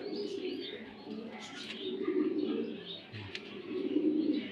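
Racing pigeons coo softly in low, repeated throaty phrases, with a few faint chirps over a quiet background.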